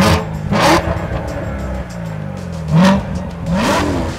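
A Corvette engine, said to sound close to a ZR1, revs hard in three loud, close bursts with rising pitch, settling to a steady rumble in between. No one speaks.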